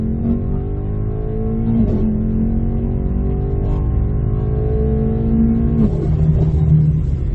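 Engine of a 2019 Mercedes-Benz E63 S AMG pulling through the gears from inside the cabin, a deep steady drone that rises in pitch, drops at each shift and climbs again, with no talking over it.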